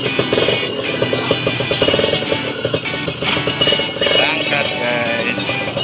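A 2013 Kawasaki Ninja SS motorcycle engine starts and settles into a busy, clattering idle, close and continuous, with a rev near the end.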